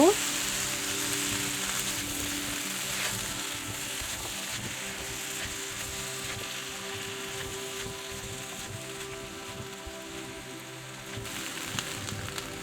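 Mixed vegetables with turmeric sautéing in a pan for a mixed vegetable curry, a faint, even sizzle and crackle running steadily throughout, with a low mechanical hum beneath it.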